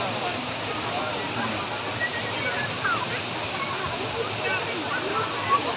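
Water pours at a waterfall as a continuous, even rush of broadband noise, steady throughout with only small swells.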